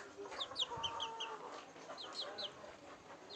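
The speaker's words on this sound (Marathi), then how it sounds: "आपल्याला मिळालेले 4 कॉकरेलचे चिक्स" Cockerel chicks peep in quick high chirps, scattered over a soft farmyard background with faint clucking; no talking.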